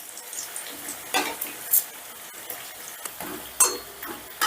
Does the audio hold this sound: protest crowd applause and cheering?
no